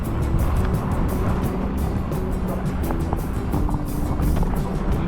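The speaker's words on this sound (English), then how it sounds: "driving right through the snow" A four-wheeler drives through deep snow during a blizzard, its engine a constant loud rumble mixed with wind and crunching rush, steady and close with no pauses.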